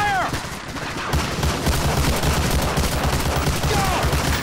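Covering gunfire in the World War II shooter game Medal of Honor: Allied Assault, rapid overlapping bursts of rifle and machine-gun fire crackling loudly and continuously, with brief shouted voices near the start and end.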